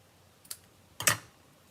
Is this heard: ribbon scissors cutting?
yes